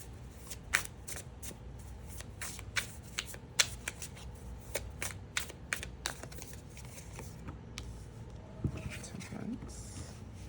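A tarot deck is shuffled steadily up close, a long run of crisp card riffles and taps with a few sharper snaps, while faint background noise sits underneath.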